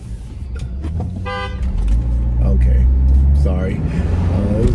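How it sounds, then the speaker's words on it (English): A car horn honks in traffic at a green light, short toots standing out over steady engine rumble and nearby talking. "the person behind me was talking and honking that person"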